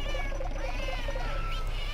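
Cartoonish cats meowing during the Felyne minigame in Monster Hunter 4, a run of high, close mewing calls over steady game music and background effects.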